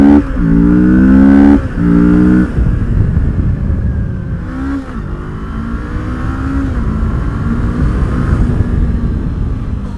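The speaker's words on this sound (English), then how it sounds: "that 650 pulls way harder than a 300 or a 500cc bike" A 650cc motorcycle accelerates hard, its engine climbing through rising revs in several quick gear changes, loud and close, then settling into a steady high-speed drone with no talking.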